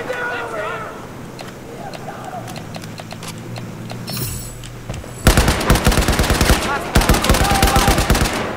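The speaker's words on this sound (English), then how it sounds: "Someone at Delta shooting at our position" Gunfire in Battlefield 4 on the Siege of Shanghai map, starting with scattered shots under game chatter and radio voices, then erupting into loud, rapid sustained machine-gun bursts close by.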